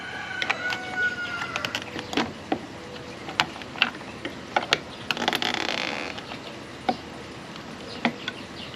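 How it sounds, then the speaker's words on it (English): Plastic clicks, taps and small scraping sounds come from working a battery out of an AIPER SeaGull SE robotic pool vacuum, with irregular close handling noises and a brief scrape in the middle. "See if we can slide the battery up now."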